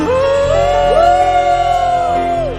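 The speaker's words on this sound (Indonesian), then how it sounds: "Sorakan haleluya" A church congregation at a worship service shouts and cheers together in a loud, sustained group cry with rising voices, close and full.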